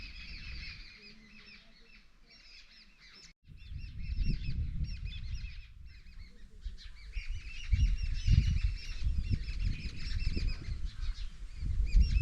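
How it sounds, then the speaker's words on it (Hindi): Birds call steadily in the jungle of the Bijrani zone in Jim Corbett, a mix of chirps and honk-like cries over low rustling and rumbling ambient noise that grows louder toward the end. "बर्ड्स की आवाज़ सुन रहे हो ना"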